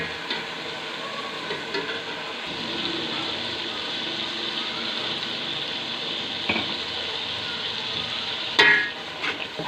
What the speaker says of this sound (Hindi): अब हम इसमें आधा पाव दही डालेंगे।